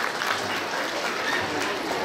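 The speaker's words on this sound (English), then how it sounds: "I think that deserves a round of applause as well" Clapping rises from a crowd at an Alberta government event marking Sikh Heritage Month, a continuous wash of applause held at a fairly loud, even level for the whole stretch.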